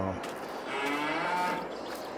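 Cows in a Farming Simulator 22 barn moo, a drawn-out lowing call heard clearly at moderate volume with soft background game ambience.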